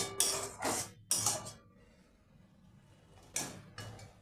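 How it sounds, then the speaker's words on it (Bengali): Masala worked around a pan with a spatula in a few sharp bursts of scraping and clattering, separated by a quiet stretch, close to the listener and with no talking. "এভাবে ভালোভাবে খুন্তি দিয়ে ঘেটে ঘেটে ভালোভাবে এগুলোকে"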